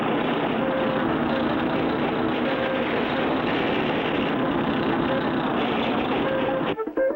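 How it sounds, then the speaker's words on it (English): In an old cartoon, a bulldozer pushes oily sand back and its engine drones loud and unbroken in a low, rough hum. The drone cuts off abruptly with a short clunk at the end. "We'll use this as a bulldozer to push the oily sand back."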